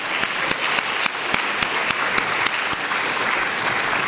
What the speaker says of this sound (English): would you please stand so we can give you a round of applause here?